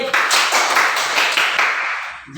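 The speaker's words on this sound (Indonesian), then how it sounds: "tepuk tangan" Classroom applause from a group of students clapping hands together, a dense, steady patter of claps lasting a couple of seconds before tapering off slightly at the end.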